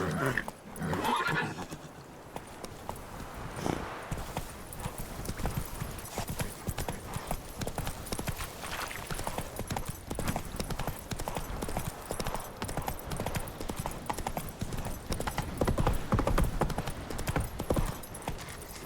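Roach the horse in The Witcher 3 video game: steady clip-clop of hooves trotting throughout, with a whinny near the start, close and fairly loud over a busy game soundscape.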